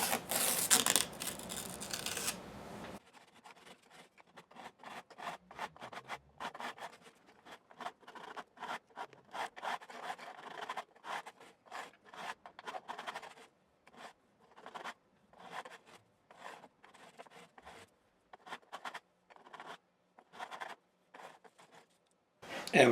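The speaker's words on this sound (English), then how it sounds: "So just shift that sandpaper on the scrub block." Sandpaper of 400 grit on a scrub block rubs across a Les Paul Special guitar body in short, repeated scratchy strokes, close and moderately loud, with brief pauses between passes and no talking.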